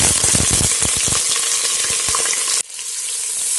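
Prawns hit hot oil in a pan with sliced onions and start a loud, close, steady sizzle with clattering stirring knocks, then cut abruptly to a quieter hiss near the end. Nobody speaks.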